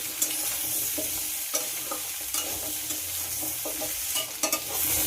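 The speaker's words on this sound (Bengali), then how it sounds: "কুমড়োটা আলুর সঙ্গে খুব ভালো করে ভেজে নিতে হবে।" Pumpkin and potato pieces stir-fry with onion in a hot pan, a steady sizzle broken by repeated sharp scrapes and clacks of the spatula, close up and with nobody talking.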